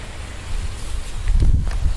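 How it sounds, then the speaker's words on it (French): Wind blows through cherry tomato plants outdoors as a continuous rumbling gust with some rustle, swelling stronger midway, with no talk. "Là il y a un peu de vent."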